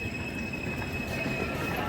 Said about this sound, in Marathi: आता बघूया ट्रेनची.